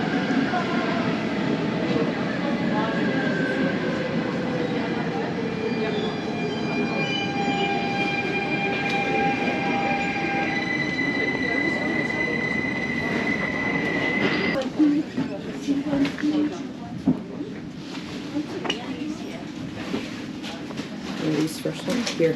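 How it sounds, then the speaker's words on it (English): Bernina Express train at Chur, Switzerland, rolling wheels with long sustained squealing tones that rise and shift, then a rougher rattling rumble as it moves, with talk nearby. "awaiting yet another iconic train here in Switzerland. It is the Bernina Express."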